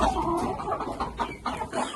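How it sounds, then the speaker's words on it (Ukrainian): Hens cluck and murmur continuously, several birds close by, with soft overlapping calls. "наші курочки, які несуть нам яйця"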